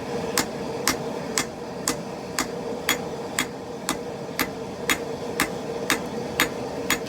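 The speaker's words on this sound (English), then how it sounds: "now I'm just going at it with a flatter" A flatter strikes a hot San mai steel knife billet in a steady run of about fifteen evenly spaced metallic hammer blows, each sharp and ringing, over a constant background hum with no talk.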